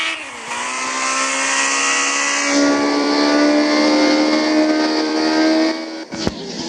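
A Ferrari's engine pulls hard while driving, a loud rising tonal roar that climbs in pitch, shifts upward midway, then drops off near the end, with a brief knock just after.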